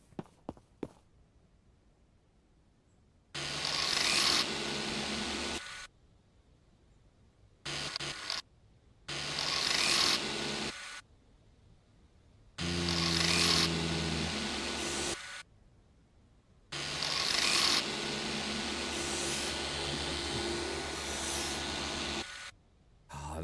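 Grinder working on a car in the video game Car Dealer Simulator, loud harsh bursts of several seconds each, repeated about six times with brief quiet gaps, no talk.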